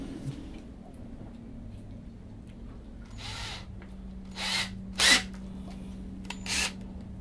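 A power drill bores a pilot hole into a clock, with several short whirring bursts of rising intensity, the loudest near the middle, close up over a steady low hum.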